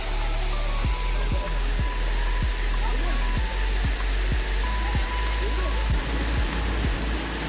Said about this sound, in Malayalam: അങ്ങനെ ഞങ്ങൾ മണ്ണീറ വെള്ളച്ചാട്ടത്തോടും തൽക്കാലം വിട പറയുകയാണ്.